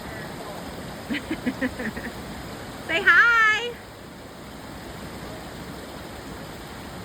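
Clear stream water rushes in a constant broadband hiss, with people talking briefly over it.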